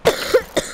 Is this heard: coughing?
yes